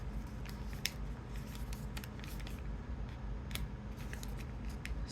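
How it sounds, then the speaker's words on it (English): Paper being creased and folded by hand for an origami mouse, soft crinkles and scraping taps scattered irregularly at close range in a quiet room. "Then we do the mount and fold along this line, making sure that these two corners end up on the edge"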